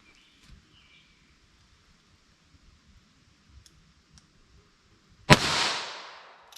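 One sharp, loud report from a snub-nosed .22 LR revolver firing CCI Uppercut ammunition rings out after several seconds of near silence with faint clicks, then fades with a short echo.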